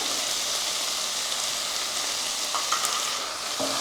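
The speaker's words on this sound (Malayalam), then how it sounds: "ഇതും കൂടി ഇട്ട് നന്നായിട്ടൊന്ന് വഴറ്റിയെടുക്കാം" Tomatoes and grated coconut sautéing in a pan for a chutney, a continuous crackling sizzle with a faint scrape or clink near the end, close and steady.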